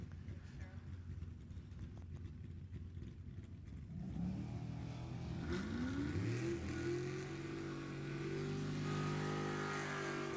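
Drag race cars, a 1974 Nova and a 2011 Mustang, launching at an NHRA Summit Racing Series E.T. finals strip; after a quieter, noisy start, engines swell into a loud, rising roar with climbing revs.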